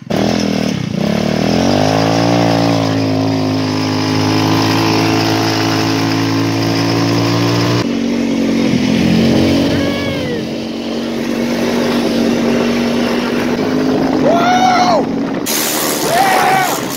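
Buzzing engine of a Tao Tao Targa 200 go-kart idles, then revs and pulls away, its pitch rising and wavering while voices talk and cheer over it near the microphone.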